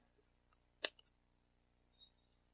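Small cutters snip jewelry wire for wire-wrapped earrings: one sharp, crisp clip followed by a couple of lighter clicks, then a faint rustle, close up in a quiet room.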